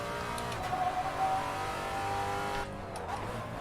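A race car running flat out down a short circuit straight, a steady, high engine whine with a clear tonal note. It drops abruptly near the end and gives way to a quieter, softer tail, with no speech.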